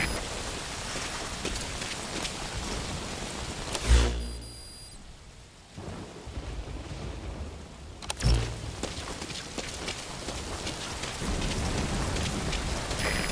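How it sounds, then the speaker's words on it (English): Heavy rain in Metal Gear Solid V: Ground Zeroes, a loud, continuous roar of rain on surfaces that drops away briefly to a quiet stretch in the middle before the downpour returns at full strength. "That rain just won't let up."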